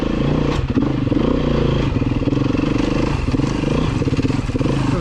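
A Beta 390 RR-S four-stroke motorcycle engine lugging at low revs while riding downhill, a steady close chugging drone with loose mechanical clatter throughout and no talking.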